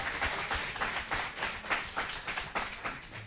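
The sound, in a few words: audience applauding a game contestant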